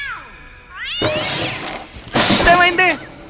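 A cat meows loudly and close by in a film scene. It gives a few rising and falling cries and ends with a drawn-out, wailing caterwaul.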